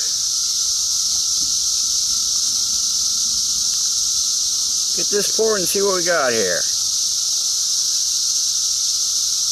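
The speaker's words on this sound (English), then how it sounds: "cicadas are flying all over the place here" Cicadas buzzing outdoors in a loud, steady, high-pitched drone that fills the whole stretch, with someone briefly talking over it midway.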